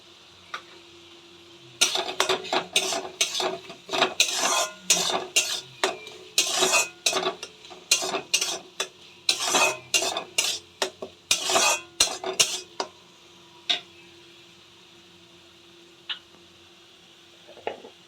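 A spoon stirs and scrapes spices with Kashmiri chili powder and coriander powder into softened tomato in a pan, sounding as a rhythmic run of close, sharp metallic clinks and scrapes with a faint sizzle beneath, fading to occasional taps.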